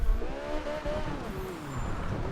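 A Toyota Trueno AE85 drifting on a wet road in Forza Horizon 2, with a revving engine and wavering tire squeal sliding up and down in pitch, close and steady.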